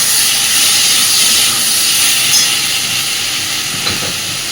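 Garlic paste hisses and sizzles in hot oil with small fried puti fish in a pan, a steady bright spitting texture continuing alone throughout.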